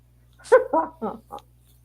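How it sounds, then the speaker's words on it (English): A dog whining and giving short yelping barks while begging for peanut butter, four brief vocal bursts in quick succession, close and clear over quiet background hum. "my dog's asking for his peanut butter, so I'm giving him his peanut butter"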